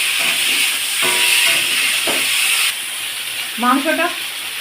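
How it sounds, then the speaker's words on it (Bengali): Chicken and spices fry in a pan with a hissing sizzle while they are stirred. A utensil scrapes now and then, the sizzle eases partway through, and a brief voice-like sound comes near the end. "এরপর এটা আমি অনেকক্ষণই নাড়াচাড়া করব। এটা ভালো করে আরও একটু মাংসের সাথে মশলাগুলো মেশাতে থাকবো।"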